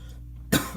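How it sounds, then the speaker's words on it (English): A single close, loud cough bursts out after a quiet pause in a room, short and sharp with a slight trailing rasp. "Talking this long and fast, like, makes me cough a lot."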